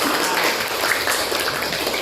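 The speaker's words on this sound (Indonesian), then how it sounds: "tepuk tangan dulu dong buat teman-teman kita yang sudah menjawab" Fifth-grade pupils in an Islamic religious education class clap for classmates who answered, a brisk, dense burst of many small hands applauding close by.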